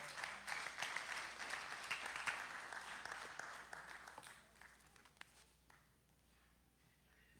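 A church congregation applauds during a Sunday worship service, a dense wash of many hands clapping that holds steady for several seconds, then thins and fades toward near quiet, with a few scattered claps at the end.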